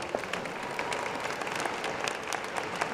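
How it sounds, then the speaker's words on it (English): An audience at a Howard University commencement ceremony applauds the Board of Trustees, a steady, dense roar of clapping from a large crowd heard throughout. "let's give them a round of applause"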